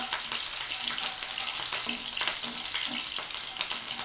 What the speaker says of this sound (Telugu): ఈ మెంతులు కొంచెం లైట్గా ఫ్రై అవ్వనివ్వండి